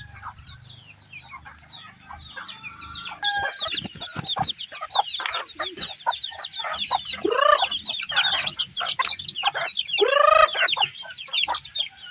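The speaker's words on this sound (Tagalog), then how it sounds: "andyan na po yung ating mga alagang manok" Chickens clucking continuously and loudly, a busy flock of overlapping clucks and squawks close by with barnyard noise underneath.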